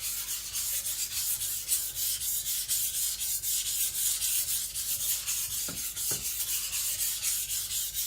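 Steady rhythmic rasping of an IKEA Chinese cleaver stroked across a whetstone, continuous close scraping strokes, with two brief sharper scrapes near the end and no talking.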